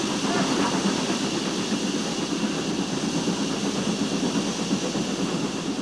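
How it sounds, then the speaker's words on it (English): A maroon Western class diesel hydraulic locomotive passes close by while riding a steam locomotive footplate through Sonning Cutting: a loud, continuous roar and rumble with steady hiss, no breaks, filling the whole stretch. "We're about to cross a Western class diesel hydraulic in maroon livery."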